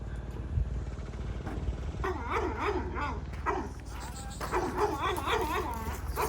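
A dog on a farm yelps and whines in a series of wavering, high-pitched cries over a steady outdoor rumble, with bursts around the middle and end, as sheep are unloaded.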